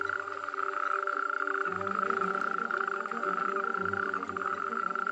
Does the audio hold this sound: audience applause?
no